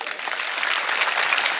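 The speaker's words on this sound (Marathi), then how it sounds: "टाळ्या बाबासाहेबासाठीच होत्या एकदा" A crowd at a public speech claps in a thick, sustained wash of applause that stays loud and steady throughout, with no voice heard.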